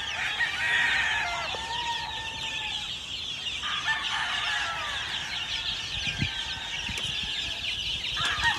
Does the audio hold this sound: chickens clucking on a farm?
yes